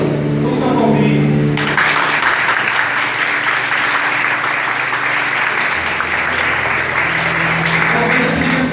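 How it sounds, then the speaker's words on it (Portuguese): A church congregation breaks into loud, sustained applause after a short stretch of music, the dense clapping filling the room for several seconds with a voice faintly underneath. "Vamos aplaudir."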